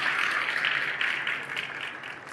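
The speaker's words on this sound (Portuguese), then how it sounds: "Vamos dar uma salva de palmas para ela que fez o primeiro acampamento da Flórida." A church congregation claps together in a steady, dense wash of applause that carries evenly from start to finish, without any voices over it.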